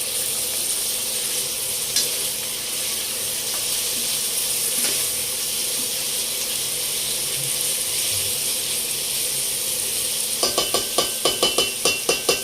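Vegetables half-cook in cooking oil for a simple denengdeng with sardines, giving a continuous bright sizzle. A run of sharp clicking and clattering comes in toward the end.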